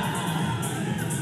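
Bodybuilding competition audience cheers and whoops for a competitor on stage, a dense, steady roar of many voices filling the hall at moderate loudness.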